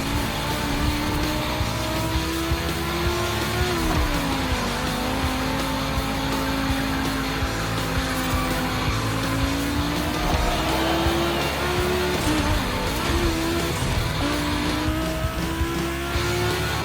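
Volkswagen cars racing around a track in The Crew Motorfest video game, engines droning loudly and continuously with rising and falling pitch as they shift gears, with occasional tire noise and no talking.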